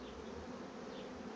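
Steady, dense buzzing of honey bee swarms gathered at the same spot, continuous and close, with a low droning hum and no voices.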